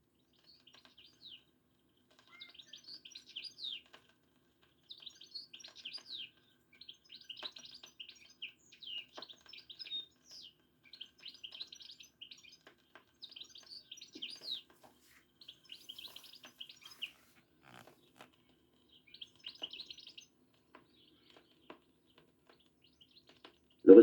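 Quick twittering European goldfinch song phrases repeat in short bursts, faint and somewhat distant, against a quiet outdoor background.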